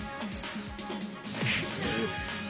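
Cartoon beating with a rapid series of smacking, whacking hits, several blows in quick succession at close range, amid busy background sound effects and a voice.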